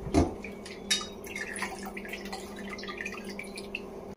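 Water squeezed from salted bitter gourd pieces drips and trickles into a bowl in a kitchen: a couple of distinct splashes followed by faint, scattered drips over a low, steady hum.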